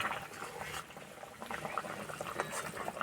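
Potato curry bubbling at a boil in a pot, a steady close bubbling and popping with soft liquid patter throughout.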